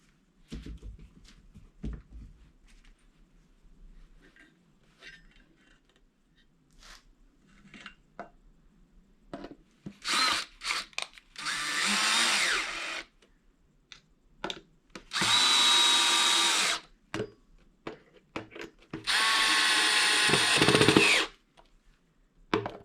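A power drill drives coarse drywall screws into a mounting bracket on a northern pike replica blank. It comes in three loud, close whirring bursts of a second or two each, separated by quieter handling noises.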